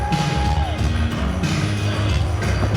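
A capacity wrestling crowd at Pandemonium III jeers The Worst tag team in a big indoor arena, making a loud, dense, continuous roar of booing. A single steady tone briefly sounds over it at the start.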